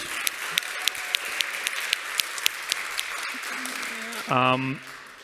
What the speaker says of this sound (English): So a round of applause to Build It, Outlast Fund, and Bad Ideas Fund